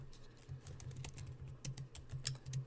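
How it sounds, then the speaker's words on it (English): Someone typing on a computer keyboard, a quick irregular patter of soft key clicks, close and quiet, with no voices. "That's me typing."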